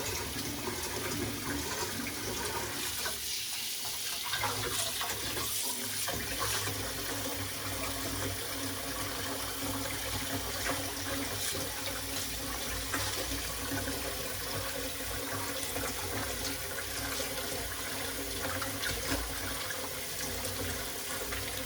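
Homemade paneer rinsed under a running kitchen tap, a steady, even rush of splashing water that continues alone throughout, with no voices.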